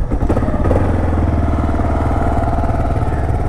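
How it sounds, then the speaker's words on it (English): A 2012 Kawasaki KLR 650 with factory exhaust and K&N intake runs at a steady idle, a close, loud, even thumping single-cylinder drone that holds throughout with no talk. "Bike fires right up"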